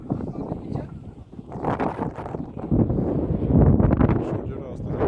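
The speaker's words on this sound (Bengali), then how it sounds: "এত ঠান্ডা বাতাস।" Cold wind sweeps across the Dubai desert dunes at sunset, roaring and gusting against the microphone in uneven surges that grow louder toward the end, with no clear talking.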